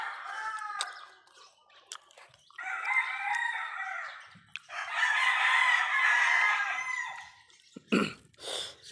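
A chicken farm rings with loud, overlapping clucking from many birds, broken by long rooster crows that rise and hold for seconds, the din close and almost continuous.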